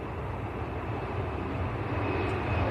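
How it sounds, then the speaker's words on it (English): An easyJet airliner on its takeoff roll at Manchester Airport, a steady broad engine roar holding level throughout and heard from a moderate distance with no voices. "EasyJet on the roll."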